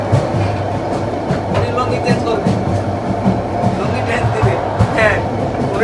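Steady rumbling rattle of a moving train carriage bound for Cox's Bazar, continuous low-frequency noise with faint clatter, and people talking over it.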